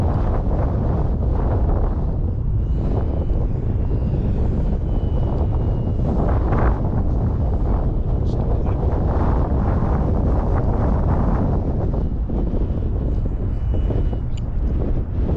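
Strong wind buffets the microphone outdoors at a flying field during a 3D-printed RC plane flight, a loud, continuous low rumble and roar throughout with no talking.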